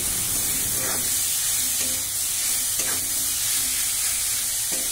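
Soaked dried mango pieces (amsi) stirred in a pan with mustard, a steady close sizzle and hiss with a few soft scraping strokes of the spoon at regular intervals, no voices.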